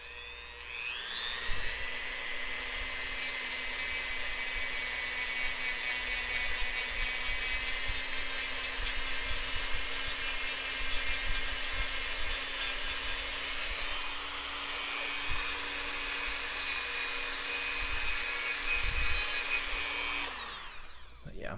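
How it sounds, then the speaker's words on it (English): A small high-pitched rotary grinder running continuously on a Nendoroid figure part, a close, steady whining buzz with faint scraping variations as it works, spinning up at the start and winding down at the end. "you can kind of just do a little bit of sand down if it's just something really subtle, or use the grinder"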